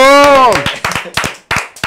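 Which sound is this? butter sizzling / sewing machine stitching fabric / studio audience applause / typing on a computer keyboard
studio audience applause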